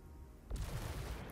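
Artillery fires in Total War: Warhammer 3, one deep booming report about halfway through, followed by a low rumbling tail with a faint crackle.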